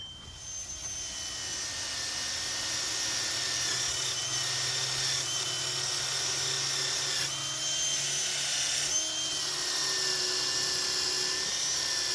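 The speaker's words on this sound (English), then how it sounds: "Let's go off to the wire wheel and see what we can do." A bench wire wheel spins steadily with a high, whining hum and brushing hiss as a large Bonney S wrench is cleaned against it, running continuously and loud throughout.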